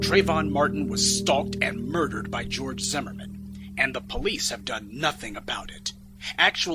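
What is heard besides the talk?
No distinct noise like a dog, phone or traffic.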